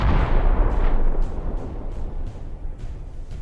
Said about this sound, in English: The tank fires.